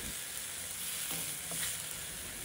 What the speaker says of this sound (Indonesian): Kita aduk-aduk dulu.